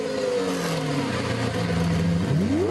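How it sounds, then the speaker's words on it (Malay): A vehicle engine runs steadily, its tone gliding down then sweeping back up near the end as it revs, heard alone and fairly close. "Ini bunyi enjin kenderaan."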